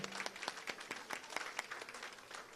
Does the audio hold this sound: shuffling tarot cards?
no